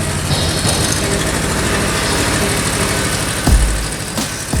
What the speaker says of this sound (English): I had to get the tractor out and use that.